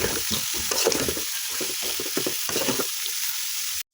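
Bitter gourd slices dropped into hot oil left from frying fish sizzle loudly and steadily with bursts of stirring, then cut off abruptly near the end.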